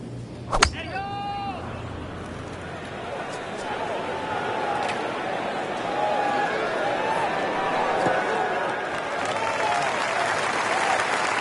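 A golf video game crowd breaks into sustained applause after a sharp club strike on a PGA course, the clapping swelling and holding steady with a commentator talking over it.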